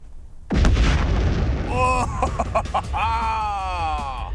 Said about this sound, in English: demonstrating a high-speed camera by blowing up a TV